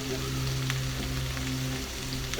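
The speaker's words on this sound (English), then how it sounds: "So I have my peppers cooking here. I'm gonna add some chopped up garlic." Peppers and chopped garlic sizzle in a pan, a steady, fairly quiet crackle and hiss that runs evenly throughout with no talk over it.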